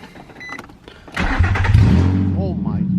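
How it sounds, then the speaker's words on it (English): A Nissan 350Z with a newly built engine cranks and fires up close by, its idle settling into a low, steady rumble, with a beep and voices talking over it. "So hopefully when we start it this time, she sounds perfect and it isn't misfiring at all"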